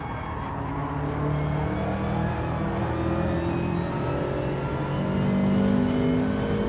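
A GTR race car engine in Gran Turismo 7 during a DTM league race drones loudly and steadily, with layered harmonic tones gliding upward as it revs under load, a continuous close roar without any voices.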